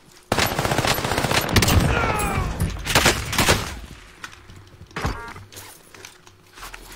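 Rapid automatic gunfire from a gun in a shooting video game, loud close bursts with dense clattering shots that fade into scattered single reports and softer mechanical clicks.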